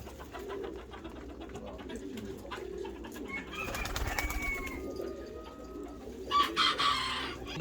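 Pigeons, including Hungarian and Japanese breeds and pouters, coo softly and repeatedly, with some clucking mixed in, over faint background noise.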